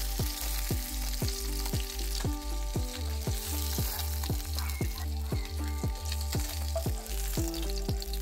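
Taki fish frying in hot oil in a pan gives a steady, continuous sizzle, with rhythmic plucked music playing over it throughout.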